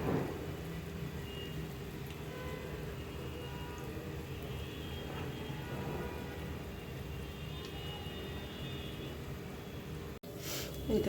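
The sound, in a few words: pitha sweets frying in oil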